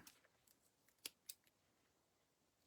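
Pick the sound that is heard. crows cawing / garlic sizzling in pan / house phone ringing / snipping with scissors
snipping with scissors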